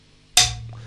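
A single sharp, bright knock from a wood block on a drum kit, close and dry with a quick decay, played alone over a low steady hum.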